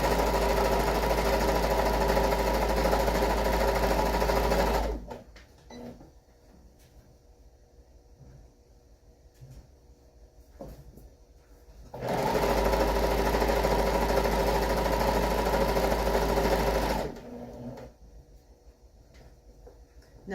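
A sewing machine stitching with blue bobbin thread and green top thread runs in two long, loud, steady bursts of about five seconds each, separated by quiet pauses with faint handling clicks.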